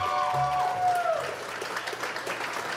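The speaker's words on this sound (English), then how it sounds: "big round of applause." Audience applause at a live show, under a tonal voice-like sound in the first second, then a scattered patter of clapping that continues at moderate level.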